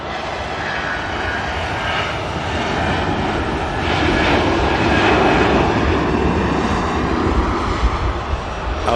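A Lufthansa airliner taxis past at Manchester Airport, its jet engines producing a broad, steady roar that swells slightly as it draws nearer, with no voices over it.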